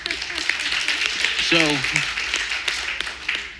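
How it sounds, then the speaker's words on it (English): Audience applause breaks out after a speech at an entrepreneur event, a broad wash of clapping running under a voice as he keeps talking. "please give me a round of applause for that."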